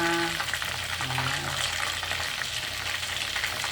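Chicken frying in hot oil, a loud continuous crackling sizzle that fills the whole stretch steadily, with faint low background sounds and no speech.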